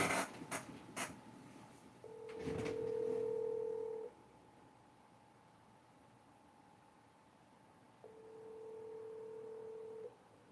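A telephone call being placed: a few sharp dialing clicks and beeps, then two long, steady ringback tones separated by a quiet gap, heard close and clear with no talking.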